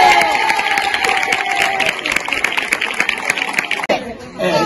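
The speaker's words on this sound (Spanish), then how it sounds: "un aplauso" An audience at a school carnival claps and cheers amid crowd chatter, a loud, busy wash of applause and voices that breaks off abruptly near the end.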